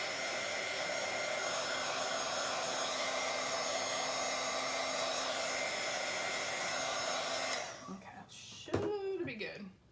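A hair dryer blows steadily and loudly while drying layers of paint on a Bible journal page, then switches off, leaving a few clunks and brief handling noises.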